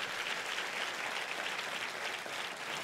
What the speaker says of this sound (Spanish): Ay, si usted está aquí, dele un mejor aplauso.